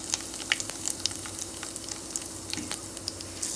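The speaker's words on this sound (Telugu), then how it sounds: "ఆయిల్ హీట్ అయింది. జీలకర్ర ఆవాలు, కొంచెం లవంగాలు, ఇలాచి" Cumin, mustard seeds, cloves, cardamom and shahjeera frying in hot oil, a quiet continuous sizzle dotted with small pops and crackles from the spluttering seeds.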